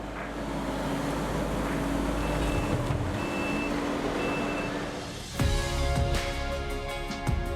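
Skid steer loader at a playset site prep job, its reversing alarm sounding three evenly spaced beeps over a steady engine rumble, followed by heavier clanking machine noise.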